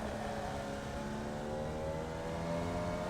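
A Formula Vee race car engine in the iRacing sim at Circuit de Ledenon drones steadily and loudly on throttle through the final corner, its pitch climbing slightly toward the end.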